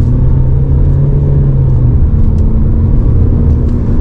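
Renault Koleos 2.0 dCi diesel SUV accelerating at full throttle after a sequential-mode downshift, a loud, close engine drone with a steady low hum that shifts pitch midway, heard from inside the cabin.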